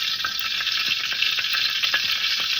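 Sardines frying in hot oil, about a kilo of fish in the pan, give a steady, close, dense sizzle with crackling pops throughout, and no one speaks.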